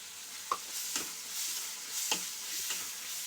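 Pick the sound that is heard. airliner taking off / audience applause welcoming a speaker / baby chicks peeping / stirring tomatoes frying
stirring tomatoes frying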